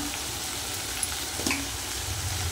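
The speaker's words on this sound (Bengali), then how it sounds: "মশলাটা ভালো করে কষিয়ে নেব।" Spice paste for peas and paneer ghugni sautéing in a pan, a continuous close sizzle with a couple of small clinks and stirring sounds, no voices.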